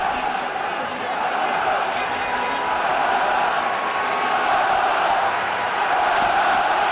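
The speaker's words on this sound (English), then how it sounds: "So the crowd certainly in good voice here in the Toyota Arena." A football stadium crowd roars and chants steadily at Toyota Arena during a Champions League match between Sparta Prague and Real Madrid, a dense continuous wash of voices with commentary faintly mixed in.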